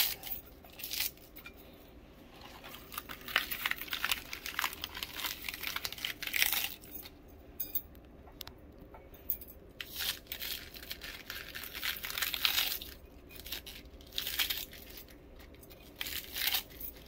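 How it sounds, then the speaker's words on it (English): Lettuce leaves are cut up for a salad, producing close, repeated crisp crunches, rips and crinkles in uneven bursts, with occasional light clinks of kitchenware and no talking. "cut up my lettuce leaves"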